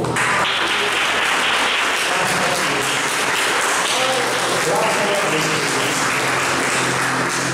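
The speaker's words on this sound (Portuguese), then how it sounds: "Aplauda o Senhor." A church congregation applauds loudly and continuously, a dense sustained roar of clapping with voices mixed in throughout.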